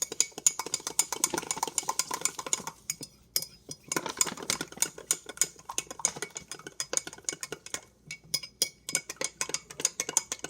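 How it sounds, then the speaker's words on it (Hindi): A spoon stirs chia seeds into a little water, giving rapid clinking and scraping strokes in quick rhythmic bursts with two short pauses, close and fairly faint, with no talk. "थोड़े से पानी में इसको मिक्स करेंगे।"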